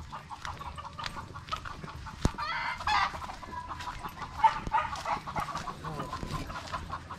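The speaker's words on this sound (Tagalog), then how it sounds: "Ang daming labuyo par." Red junglefowl (labuyo) on a farm, clucking steadily with a few crowing calls rising among the chatter of several birds, close and fairly loud with no speech.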